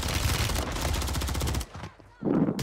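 Automatic weapon fire in Warzone 3, a long, loud, close burst of rapid shots that cuts off, followed by a brief lull and a short burst of other noise.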